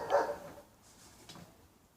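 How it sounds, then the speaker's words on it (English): A single sharp dog bark at the start, followed by a softer, fainter yelp a moment later in a quiet room. "that's not actually Floyd barking, he's good as gold"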